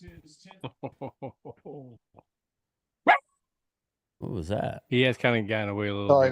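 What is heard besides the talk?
dog barking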